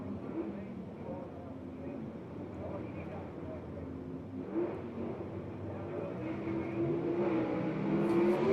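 Gasser drag race cars roar at Kilkare Dragway in Xenia, Ohio, as a distant, rumbling engine drone under a voice talking, swelling louder toward the end.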